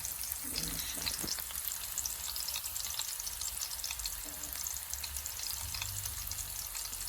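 Food sizzles and crackles steadily in a hot pan with ginger, with occasional scraping and stirring sounds, close and continuous throughout.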